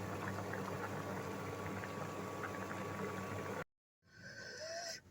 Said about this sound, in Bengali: কচুগুলো ফুটে উঠেছে এবার আমি এটা জল থেকে ঝরিয়ে নেব